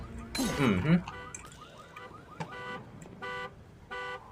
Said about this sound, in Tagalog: Nag-alarm yung sasakyan.